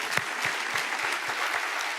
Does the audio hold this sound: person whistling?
no